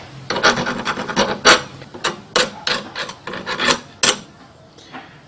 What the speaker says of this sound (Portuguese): Eu percebo que você passa uma lima para não ficar rebarba